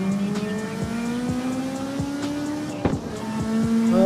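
Car drifting through a corner in the CarX Street racing game, with a steady engine drone, sweeping pitch glides and loud sustained tire squeal across the whole stretch, punctuated by a few sharp transient bumps.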